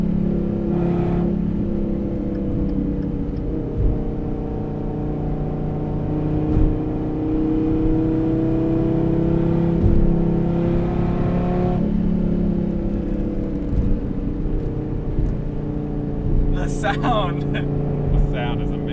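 A Dodge Viper ACR with the Extreme Aero Package drives along, its engine droning and rising in pitch through several revs, with people talking over the cabin noise throughout.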